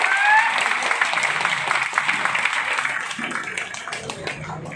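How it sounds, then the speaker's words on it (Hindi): A crowd at a product-information gathering breaks into sustained, loud applause to welcome a first-time guest onto the stage, dense clapping continuing steadily throughout. "आ जाओ, जोरदार ताली के साथ मैं आपको इन्वाइट करता हूँ।"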